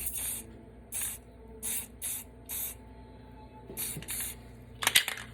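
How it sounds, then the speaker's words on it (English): Short bursts of spray paint hiss from a can in a basement, roughly six separate sprays spaced about a second apart, with a quick cluster of sharper spurts near the end. "You just take your spray paint,"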